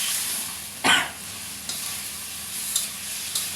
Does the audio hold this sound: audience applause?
no